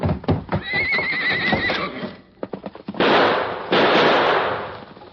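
Silver, the Lone Ranger's horse in an old-time radio drama, lets out a shrill, wavering whinny amid sharp gunshot-like cracks and hoof clatter, followed by loud rushing bursts, close and dramatic with no speech.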